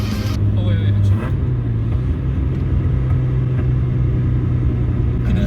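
A car engine on overrun while driving, a steady low rumble with faint crackle as the throttle lifts, heard from inside the moving car with an occasional voice.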